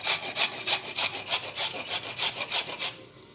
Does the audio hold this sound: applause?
no